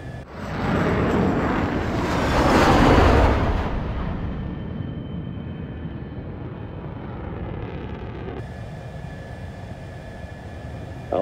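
Jet aircraft roar in the combat flight game Ace Combat: Assault Horizon, a loud, steady rushing engine drone swelling for a few seconds then easing into a continuous hum, with no voices.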